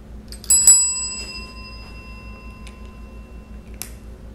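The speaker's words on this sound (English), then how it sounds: "You gotta ring the bell." A bicycle bell rings sharply twice in quick succession near the start, then once more faintly near the end, close and clear over a low steady hum.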